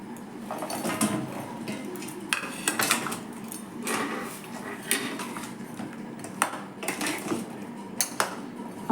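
Gaja pastries dipped into sugar syrup in a pan, heard as repeated metallic clinks and scrapes of utensils against the pan, close and irregular, with no speech.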